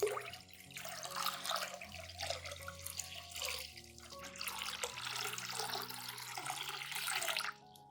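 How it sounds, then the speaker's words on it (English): Clean water poured to dilute a turmeric solution for soaking plant roots, a continuous splashing, gurgling pour that runs steadily for about seven seconds before cutting off. "Add 1 liter of clean water to dilute the solution"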